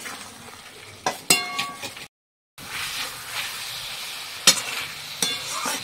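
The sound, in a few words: fish and potatoes being stir-fried with spices in a pan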